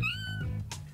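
A cat in the video game No More Heroes gives one drawn-out, close meow that rises and fades, followed by a brief breathy sound, with no talking over it.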